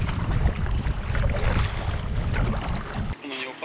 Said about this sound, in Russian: Ветер задул.